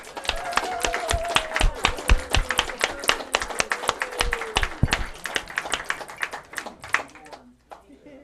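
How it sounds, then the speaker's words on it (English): A church congregation claps a hearty round of applause, many hands beating in dense, uneven rhythm for about seven seconds before tapering off into quiet. "Let's give each other a round, I'm going to give you permission, a round of hearty applause."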